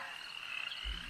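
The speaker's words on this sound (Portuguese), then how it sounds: "Comemorou aquele bando de sapos festeiros e animados." Frogs croak together in a lagoon, a steady chorus of rasping calls at moderate volume with no voices over it.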